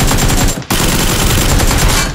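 Loud, dense automatic gunfire in a first-person shooter PC game, rapid shots running continuously with one brief break partway through.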